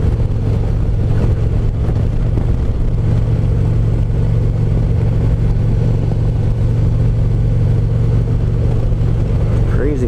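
Motorcycle engine drones steadily and loudly throughout a cold-weather ride, a constant mid-pitched hum with wind rush and faint voices mixed in.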